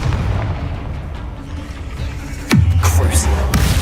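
A Confringo spell blast in the Hogwarts Legacy video game, one heavy booming impact that drops into a low rumble, loud and close over a constant game background.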